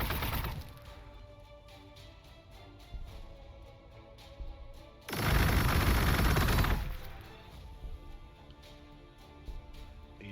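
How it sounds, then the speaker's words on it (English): An EMP grenade detonates in Warhammer 40,000: Gladius amid scattered weapon fire: sharp repeated cracks and shots, then a loud roaring burst lasting about two seconds before the crackling returns. "EMP grenade"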